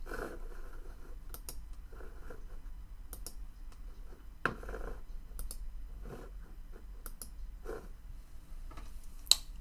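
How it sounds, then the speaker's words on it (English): Computer mouse clicks while songs are added to a playlist, sharp isolated clicks scattered irregularly across the stretch, fairly close, over a low steady background of music. "All of that clicking was me adding it to the playlist."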